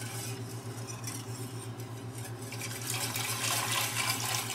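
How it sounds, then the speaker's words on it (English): A whisk stirs broth into gravy in a pan, with a continuous scraping and sloshing that grows busier and louder toward the end over a low steady hum. "Now I'm going to whisk in the last of the broth."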